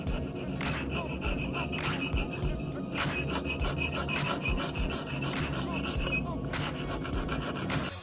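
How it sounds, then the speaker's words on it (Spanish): Steady rhythmic rasping of sandpaper on the bevel of a table-knife blade, repeated back-and-forth scraping at an even pace, close and continuous. "Vamos a lijar en bisote."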